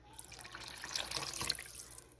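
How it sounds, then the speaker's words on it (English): A short, quiet pour of about half a can of water into a cooking pan, a soft splashing trickle that swells briefly then tapers off. "Now I am going to put a little bit of water in here."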